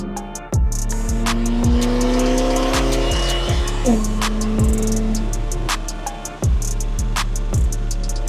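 Corvette C8 ZR1 with a 5.5-liter flat-plane-crank LT7 V8, exhaust burbling and popping, with sharp crackles and revs over a loud, steady engine drone close by.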